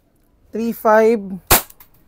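Hi-Capa gas blowback airsoft pistol fires one sharp, loud snap close by, with a brief metallic tail. It comes after two short voiced sounds, and no one speaks.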